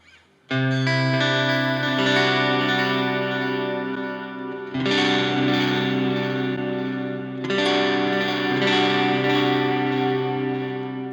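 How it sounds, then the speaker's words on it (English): A sustained electric guitar chord through a Sonicake Pocket Master on stock settings rings out with heavy delay and reverb, swelling and re-struck a few times, each wash of echoes trailing long behind it. "The delay and reverb aren't drowning out the guitar as much anymore."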